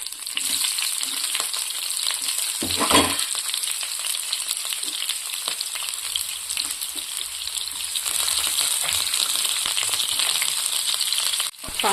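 Fennel seeds and onions frying in hot oil for a crab curry, a loud continuous close sizzle with occasional stirring and scraping sounds throughout.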